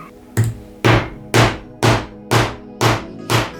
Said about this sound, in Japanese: この状態でハンマーでぶったたいていきます。